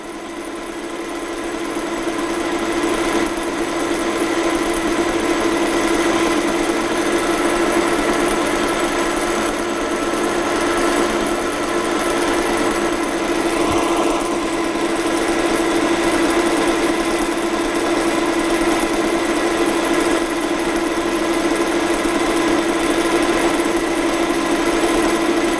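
A lathe running in a fitting and turning workshop gives a loud, steady mechanical hum with a constant drone that lasts the whole stretch without pause.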